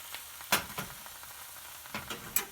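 Red onions frying in a pan over low heat, a faint steady sizzle with a few soft stirring scrapes and taps scattered through.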